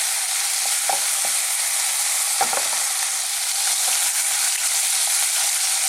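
Pork fries on high heat in a pan, a loud continuous sizzle with a few scraping stirs breaking through.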